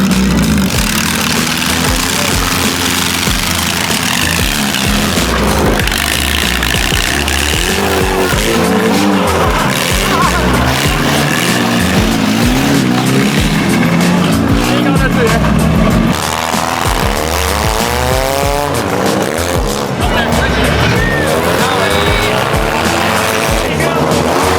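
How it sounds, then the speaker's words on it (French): Four-cylinder cars in a demolition race, engines roaring loud and near with repeated revving, tire squeals and skids, a continuous chaotic din with a voice talking over it. "la course à Justin est faite, dans 4 cylindres, gladiateur"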